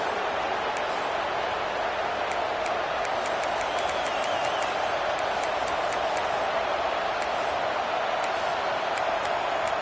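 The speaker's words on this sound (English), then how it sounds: "This crowd bringing the energy and noise early." Football stadium crowd at an LSU vs Clemson game, a steady, dense roar of cheering and noise filling the whole stretch without letup, with faint chirpy whistles or calls riding on top.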